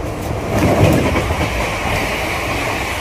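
Steady loud rumble and clatter of wheels from inside the Lalgola Passenger train, a continuous close rolling drone with faint rhythmic clicks over the rails.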